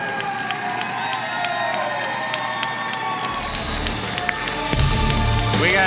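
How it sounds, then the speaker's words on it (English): A wrestling arena crowd at a live event cheers and claps in a steady wash of noise, with whistles and a louder surge of shouts near the end. "Crowd showing their love."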